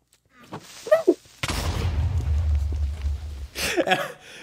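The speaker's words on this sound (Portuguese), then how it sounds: "a milésima vez que um Creeper estoura as coisas do Kaká" Minecraft Creeper exploding in the video game: a sudden loud blast with a rumbling tail of about two seconds, with short bursts of voices just before and after.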